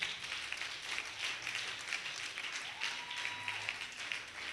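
A church congregation at a camp revival meeting applauds, giving steady broadband clapping that carries through the whole stretch at a fairly distant, moderate level.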